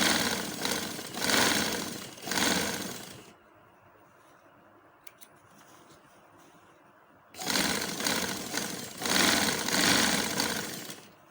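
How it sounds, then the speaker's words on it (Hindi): Sewing machine stitching the second leg of a shalwar, running in two loud sustained bursts at the start and end with a quiet pause between them, no talking. "दूसरे पांचे को भी इसी तरह मैं सिलाई लगा लेती हूँ"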